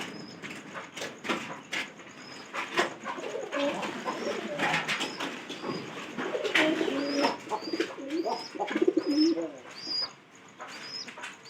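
Domestic pigeons coo repeatedly in a loft while their keeper looks after them, with soft throaty burbles overlapping and higher chirps and tweets scattered throughout, fairly close and steady with no talking.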